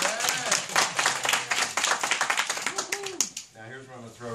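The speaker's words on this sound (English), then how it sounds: "Give him a round of applause." An audience at a boot camp seminar event claps in a dense, loud burst of applause, with voices calling out over it and one voice rising clearly at the end.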